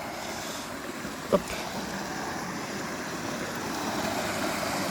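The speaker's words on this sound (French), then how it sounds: "on va essayer de se rapprocher encore un petit peu plus près de la cascade, parce qu'elle est quand même jolie" A nearby waterfall cascade at a slippery rocky spot gives a steady broadband rushing roar that fills the whole clip, with one brief sharp click early on.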